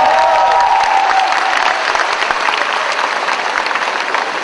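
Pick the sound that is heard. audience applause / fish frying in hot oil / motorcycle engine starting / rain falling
audience applause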